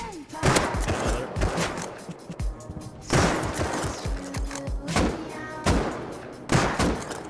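Rapid bursts of AK rifle spray fire in the survival video game Rust, several loud automatic volleys separated by short pauses, with heavy thumping reports and clattering in between.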